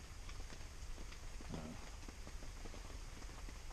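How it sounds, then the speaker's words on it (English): Rain falls steadily outside a camping shelter, a soft, continuous patter of drops with scattered quick taps, quiet and unbroken throughout. "But the rain sounds heavenly."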